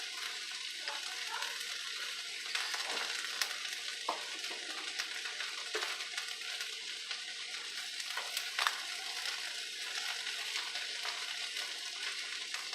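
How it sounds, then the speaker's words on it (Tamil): Lentils and onion fry in oil in a pan for ivy gourd chutney, giving a steady close sizzle with occasional stirring scrapes and crackles and no voices. "இப்போ நம்ம இந்த பருப்பு வெங்காயமெல்லாம் வதக்கிடலாம்."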